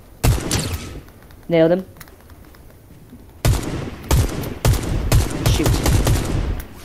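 Gunfire in Fortnite Chapter 5: a sharp shot, a pause, then a burst of rapid, loud shots in quick succession, with a player speaking briefly between them.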